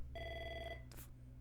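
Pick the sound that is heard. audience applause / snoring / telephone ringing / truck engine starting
telephone ringing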